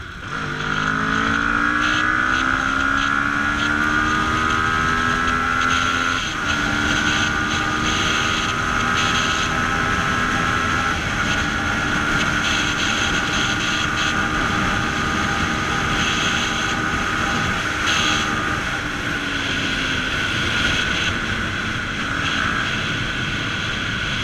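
A Kawasaki ER6N motorcycle rides at a steady pace, its engine droning loudly and continuously with pitch rising and falling through gear changes, wind noise rushing underneath throughout.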